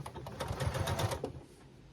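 A sewing machine stitches quilt fabric in a short, close burst of rapid mechanical clatter that lasts under two seconds, with no voices.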